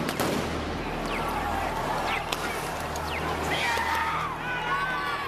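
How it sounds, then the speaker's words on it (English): Flash grenades going off during a police crackdown on Occupy Wall Street protesters, with tear gas in use; a few sharp bangs and cracks sit in a dense, continuous roar of crowd noise and shouting. "Tear gas and flash grenades were used."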